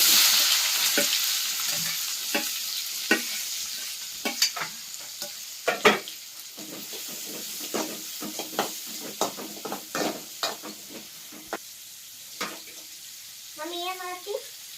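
Onions frying in a pan for a North Karnataka masala omelette, a soft sizzle under a run of sharp spoon taps and scrapes, fairly close, with a brief voice-like sound near the end.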